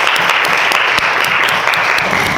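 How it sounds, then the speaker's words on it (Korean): A church congregation clapping at the first worship service in a new sanctuary, dense steady applause filling the room, close and loud, no voices. "감사의 박수, 영광으로."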